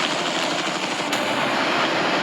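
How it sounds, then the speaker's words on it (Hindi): A helicopter over an island gives a loud, steady, broadband rotor and engine roar that carries on without a break. "ये हेलीकॉप्टर हमारे बॉयज को ऊपर हवा में ले जाएगा"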